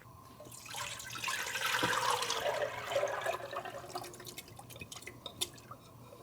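Water pours into a cooking pot for yogurt soup, a close liquid splash and gurgle that swells for a few seconds, then fades into scattered drips and light clinks.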